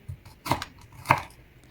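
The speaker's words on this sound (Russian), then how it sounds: "Половинку моркови режу в соломку" A knife chops a half carrot into julienne strips, with two distinct sharp strikes against a cutting board, close and clear, with no talking.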